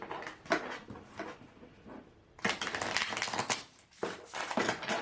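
A thin-carded manga tarot deck shuffled by hand, giving a close, quiet papery rustle and then a denser riffling burst in the second half.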